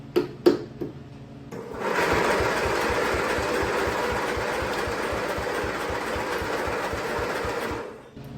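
A free riding mower engine cranking over on its starter, a few sharp clicks and clunks first, then a steady, rapid chugging churn that runs for several seconds, loud and close, before cutting off, with no talking.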